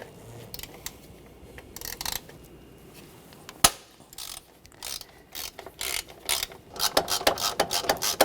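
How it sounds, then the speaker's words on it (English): A ratchet turns a T30 socket to remove a bracket bolt from the intake manifold of a 2009-2013 BMW 328i xDrive 3.0L I6, giving bursts of close clicking that grow faster and louder toward the end. "Use a T30 socket."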